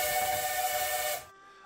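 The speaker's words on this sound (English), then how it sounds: "the train whistle" A train whistle sound effect plays as a sustained, loud, hissing tonal blast for about a second before cutting off abruptly, leaving a faint ringing tail.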